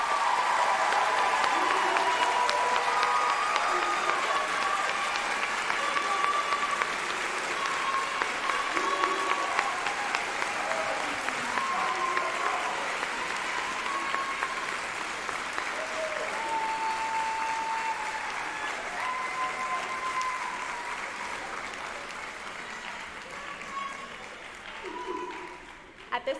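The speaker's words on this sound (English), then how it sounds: "Let's give our nursing students a big round of" Audience applause for nursing students at a white coat ceremony, a long, steady stretch of clapping in a hall with a few raised voices over it, tapering slightly near the end.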